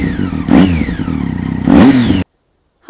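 A 2021 Triumph Street Triple 765 RS three-cylinder motorcycle engine revs twice in quick, sharp blips, loud and close, each rising and falling before cutting to silence.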